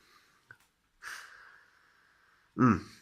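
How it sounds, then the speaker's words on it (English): A few short nasal sniffs at a glass of chocolate orange stout beer, close and quiet, separated by brief silences and followed by a louder exhale or breathy vocal sound at the end. "So I'm going to give it a little sniff."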